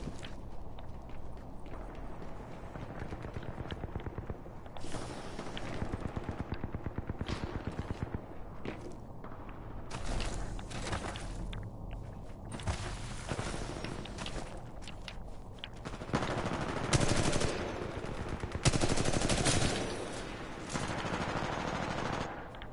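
A light machine gun firing in the video game Titanfall 2, repeated rapid bursts of close, loud automatic fire separated by pauses and footsteps, growing heavier toward the end.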